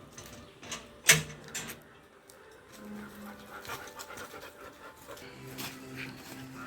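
Pet dogs pant in quick, breathy bursts close by in a home, with a faint whimper and a sharp knock. Someone speaks to them in between.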